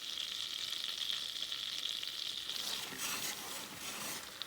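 Butter heating on high in a deep pot, sizzling faintly with a steady hiss that grows rougher and louder toward the end.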